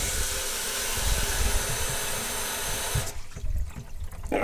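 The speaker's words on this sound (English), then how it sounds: "We'll go ahead and turn our faucet on up here." A bathroom faucet runs with a steady, close rush of water for about three seconds before the flow drops to a quieter trickle.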